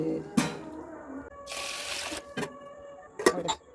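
Water pouring and splashing into a vessel as rice-washing water is collected in a home kitchen while making Kerala-style appam and kadala curry, a short gushing stream between a few sharp clinks of utensils.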